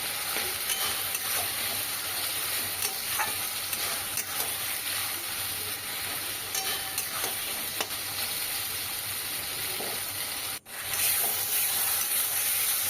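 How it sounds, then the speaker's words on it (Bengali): Rajma masala with tomato is stirred in a sizzling pan: a constant close frying hiss overlaid with rubbing, scraping strokes of a spatula, and a brief break near the end. Nobody talks. "এবার একটু নেড়ে চেড়ে নেবো"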